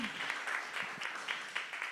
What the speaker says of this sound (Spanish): Denme un aplauso al Señor